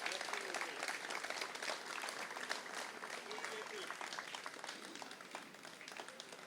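Guests at a celebratory dinner event applaud together in a sustained, fairly distant round of clapping, with chatter mixed underneath.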